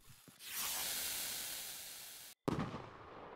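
A firework rocket launches in the game Fireworks Mania, a long rushing hiss that fades over about two seconds, cuts off, then a sharp crackling burst.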